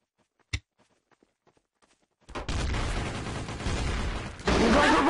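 Gunshots in the Trouble in Terrorist Town video game: faint taps and one sharp crack in near silence, then a sudden loud wall of rapid, continuous gunfire that grows louder toward the end.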